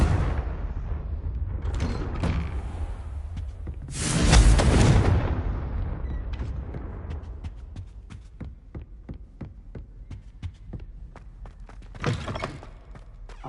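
A Confringo spell in Hogwarts Legacy detonates with a loud booming blast midway, trailed by a low throbbing hum and scattered sharp cracks, with another burst near the end.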